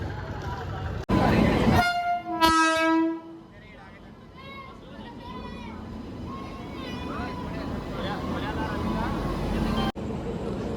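The Gouthami Super Fast Express train runs along with a loud horn blast near the start, then a steady rolling rumble while voices talk nearby.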